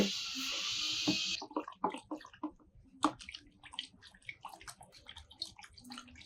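Phenyl cleaning liquid sloshing and swishing as it is stirred, with irregular splashy strokes after an opening stretch of steady running water.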